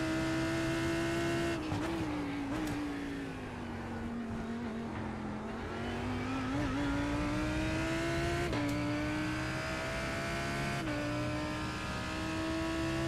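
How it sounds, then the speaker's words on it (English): Lamborghini Huracan GT3 racing around Imola in a video game, its engine droning steadily throughout with brief pitch dips and rises at gear changes and corners, loud and close with no talk. "Car drives very nicely."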